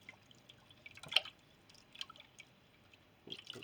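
Salted herring being rinsed in water while splitting fish for home-smoked kippers, giving faint, sparse drips and small splashes with one brighter splash near the middle and a few more toward the end, no talking.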